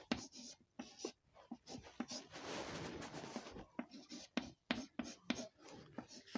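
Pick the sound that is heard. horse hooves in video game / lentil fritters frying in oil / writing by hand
writing by hand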